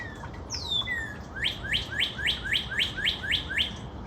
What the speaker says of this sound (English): What a pretty bird song.